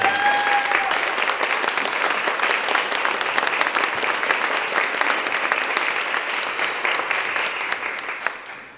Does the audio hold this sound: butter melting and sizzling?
no